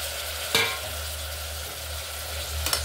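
Tomato and bottle gourd pieces land in a hot pan for a curry, giving a soft steady sizzle with two sharp clatters a couple of seconds apart; no talking.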